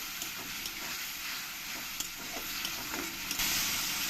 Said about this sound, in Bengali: জল দিয়ে একটু আমি এটাকে কষিয়ে নেব মশলাটাকে